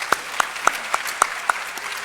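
At a ceremony marking the 150th anniversary of the Sagranti War, an audience welcomes the chairperson with sparse, distinct handclaps, about eight sharp claps spaced in a loose, unhurried rhythm, fairly close and crisp.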